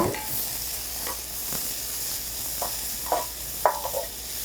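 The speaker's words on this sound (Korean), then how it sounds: "이렇게 볶도록 할게요." Shrimp and sweet potato pizza topping stir-fried with dried basil in a pan, a soft continuous sizzle broken by several spatula scrapes and knocks, close and unaccompanied by speech.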